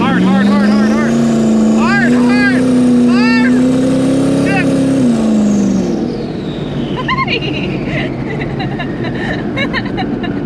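A 1300hp turbo Mustang accelerates hard, its loud engine note climbing steadily for several seconds before dropping off. People talk over it throughout.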